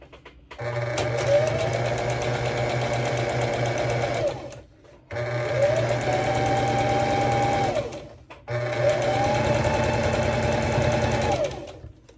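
Sewing machine running a straight stitch along a one-centimetre bikini strip, three long steady whirring runs with rising pitch at each start, separated by brief pauses, close and loud with no talking.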